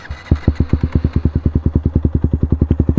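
A motorcycle engine in first gear chugs close by in a fast, even pulse of loud low thumps that starts with a bark and keeps a steady rhythm throughout.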